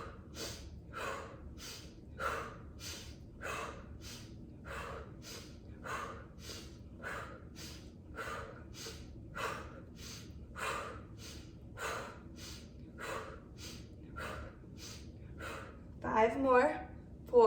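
Rapid, rhythmic breathing from a yoga breath exercise, sharp forceful exhalations through the nose at a steady fast pace, close and distinct, with a brief voice near the end.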